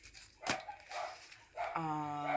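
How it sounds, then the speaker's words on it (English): A household dog barks a few times at moderate distance, mixed with indoor rustle and a brief steady tone near the end, with no talk. "Oh, the dog's barking."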